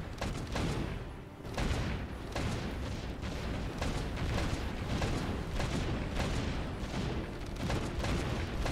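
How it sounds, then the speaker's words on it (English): Rapid, continuous salvo of heavy gunfire in the video game Stormworks, rotating guns aimed downward pounding in dense booming bursts, loud and sustained throughout with no talking. "Bombardment."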